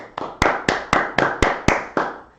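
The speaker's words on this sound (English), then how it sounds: "Round of applause" Podcast hosts giving a round of applause: about eight sharp, evenly spaced hand claps, close and distinct, from a small group rather than a crowd.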